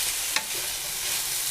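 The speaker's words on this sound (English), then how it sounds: "We're coming in with our mushrooms as well. We are going to continue to cook these" Garlic and mushrooms cook in a pan with a steady, even sizzle throughout, broken by one brief louder stir or clink near the start. No one is speaking.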